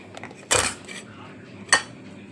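Paneer being mixed with green chilli and salt in a bowl, giving two distinct clinks of a utensil against the bowl about a second apart, close and fairly quiet with soft handling noise between.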